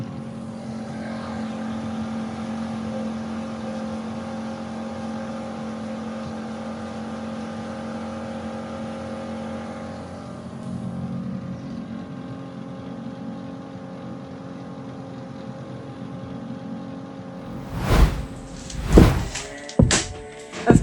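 An outboard motor on a boat, being prepared for a long voyage from Cairns, runs at a steady idle throughout with a droning engine hum, then a few loud thumps and bursts near the end.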